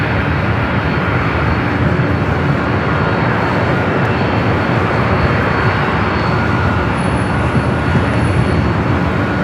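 An airliner taking off at Los Angeles International Airport bound for Atlanta, a loud, continuous jet engine roar that stays steady and powerful throughout.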